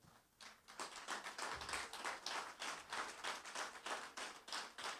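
A church congregation claps in unison, a steady rhythmic beat of about two to three sharp claps per second, building after a brief start and holding strong.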